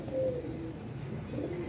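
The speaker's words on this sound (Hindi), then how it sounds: "ये शानी भाई कबूतर लेके आए हैं" Pigeons, a paired male and female, coo in low soft rolling notes close by, with a couple of throaty calls rising over a steady room murmur.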